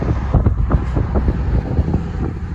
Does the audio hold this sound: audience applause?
no